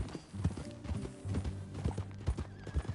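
Horse hooves clip-clop in a steady walking rhythm in the video game Red Dead Redemption 2, with a low rumbling background and an occasional faint whinny.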